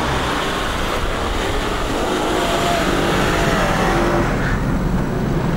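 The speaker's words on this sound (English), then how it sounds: "Turning off DSC and entering a corner too fast, or applying the throttle too sharply, can risk the vehicle sliding into a skid," A Land Rover with its DSC stability control switched off enters a corner too fast and slides into a skid, heard as a loud, constant broadband roar of engine and road noise with no speech.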